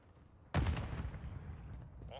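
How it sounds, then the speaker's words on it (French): A grenade detonation in Call of Duty MW3 multiplayer, one sudden loud blast after a quiet moment, followed by a decaying rumble and lingering debris noise. "Je lance une grenade."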